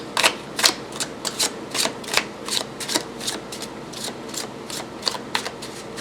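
A tarot deck shuffled by hand, a steady run of crisp riffling flutters and soft card slaps repeating about twice a second, close and clear with no talking.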